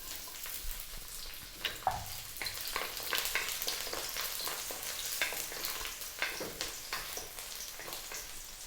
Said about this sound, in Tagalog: papainit tayo ng mantika sa ating lutuan at nalagay na natin yung ating crushed garlic